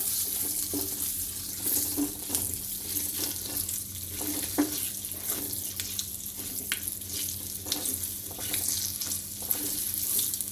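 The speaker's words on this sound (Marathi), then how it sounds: "थोडेसे परतून घेऊया" Hog plums sauté in a pan, sizzling steadily up close, with occasional scraping stirs and clinks throughout.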